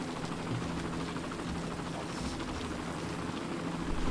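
Helicopter in the city-building video game Cities: Skylines, a steady, faint rotor drone with dense broadband noise that holds evenly and swells slightly at the end.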